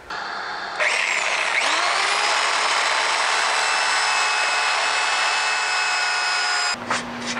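Steady whining power-tool hum runs continuously for about six seconds while pegs on a cherry wood bowl are sanded, then cuts off abruptly with a brief clatter.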